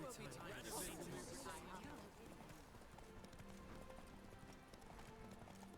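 Horse galloping in a race in The Witcher 3, steady clip-clop hoofbeats running throughout under game music and ambience, with voices talking over the first couple of seconds.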